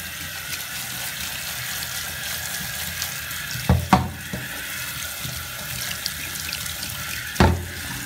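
Water from a tap runs steadily over barbecue charcoal blocks being rinsed, a constant splashing wash with two louder clunks of the blocks shifting near the middle and end.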